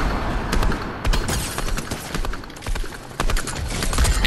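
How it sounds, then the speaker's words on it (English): Video game gunfire crackling in rapid, uneven bursts of close shots, dense volleys overlapping one another throughout with no voices over them. "Someone's shooting."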